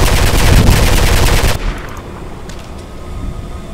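Loud rapid gunfire in Mirror's Edge, a dense sustained burst that cuts off abruptly partway through, followed by quieter background sound.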